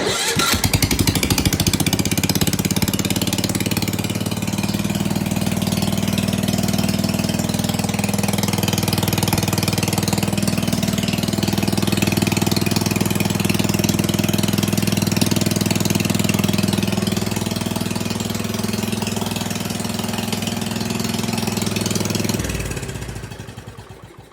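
A 1968 John Deere 110 lawn tractor's small engine sputters to life and settles into a steady, rumbling idle that runs for a long stretch before cutting off at the end.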